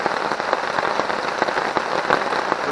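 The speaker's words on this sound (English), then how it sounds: "it sounds like right now rain's starting to let off for a little bit" Storm rain falls hard in a dense, steady patter of drops striking surfaces, loud and close throughout, with no voices.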